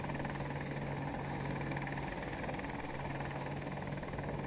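Attack helicopter engine in the video game Battlefield 2042, a steady loud rotor thrum and turbine whine droning continuously without a break, close and alone with no talk.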